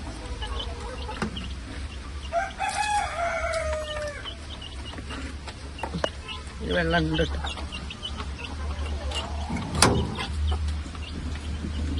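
Domestic chickens kept at home give a rooster crow and scattered clucks, faint against a quiet background, with a person speaking intermittently.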